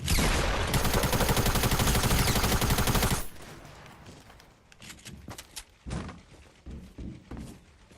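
Rapid automatic gunfire from Fortnite fills the first few seconds, loud and sustained, then drops to scattered quieter game sounds and short impacts.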